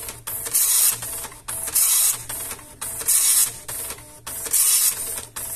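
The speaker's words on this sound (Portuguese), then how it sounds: "Liga a impressora com o dedo, a tecla do meio pressionada." An LX-300-series dot matrix printer running its self-test chatters in repeated rapid bursts, its print head buzzing back and forth in a steady rhythm with short pauses between passes.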